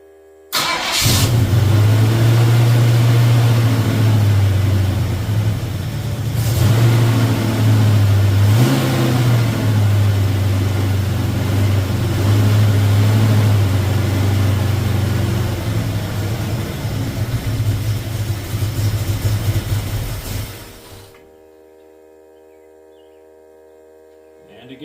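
A 1972 Ford Mustang Mach 1 under restoration fires up for its first start, then runs with a loud, close engine rumble and a few revs for about twenty seconds before cutting off to near silence.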